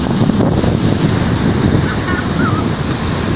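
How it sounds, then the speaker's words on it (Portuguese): Ocean surf at Boa Viagem beach in Recife during high sea, a loud continuous roar of breaking waves close by, with wind buffeting the microphone. "o mar nesse instante está alto"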